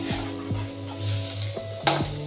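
Eggplant frying in hot oil sizzles steadily while a spatula scrapes and stirs the pan in a few distinct strokes, with light clinks of metal near the end.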